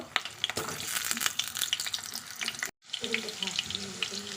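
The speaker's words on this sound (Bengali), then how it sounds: "এখন দিচ্ছি আলুগুলো লবণ হলুদ দিয়ে একটু ভেজে নেব" Potatoes frying in lightly heated mustard oil in a wok, seasoned with salt and turmeric, giving a bright watery crackle and sizzle with a brief gap partway through, nearby and moderately loud.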